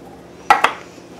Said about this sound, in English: I'm adding my tomato sauce